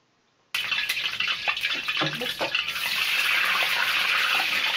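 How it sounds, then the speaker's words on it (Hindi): Water sprinkled into very hot frying oil for vada pav, setting off a sudden loud, continuous hissing sizzle with crackles that builds and holds steady after a moment of silence. "इसको ठंडा करने के लिए थोड़ा पानी के छीटे मारने पड़ते हैं"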